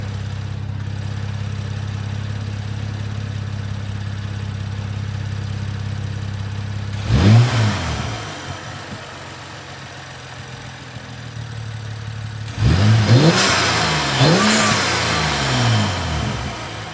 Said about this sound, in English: let's give it a couple revs, see how it sounds, see how well you can hear that intake